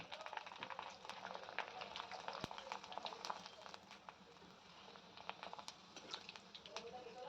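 Kurdya, Maharashtrian dried wheat crisps, deep-frying in hot oil for a puran poli festival thali, a steady low bubbling crackle with scattered sharp pops and clicks throughout, moderately quiet and without talk.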